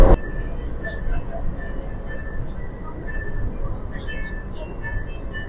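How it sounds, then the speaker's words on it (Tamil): Riding aboard a Kuala Lumpur monorail train: a steady, loud interior rumble with a faint sustained whine and occasional light clinks, with a murmur of voices in the carriage. "புக்கெட் பின்டாங் போகிறதுக்காக நான் இப்போ மூணு ட்ரெயினில் போயிட்டுருக்கோம்"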